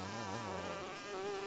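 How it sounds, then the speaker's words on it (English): A honey bee buzzes in a steady, droning hum that wavers slightly in pitch, close and continuous, with no other sounds around it. "Honey bee."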